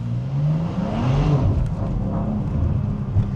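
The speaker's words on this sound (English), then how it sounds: "Even with traction control on, it still spun the rear wheels." A BMW M2 G87 accelerates hard with its rear wheels spinning, the engine note rising steadily under a broad rush of road and tyre noise, loud and close throughout.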